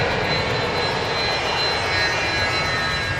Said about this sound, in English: He's cleared to take off. He's spooling it up. He's going to go right now.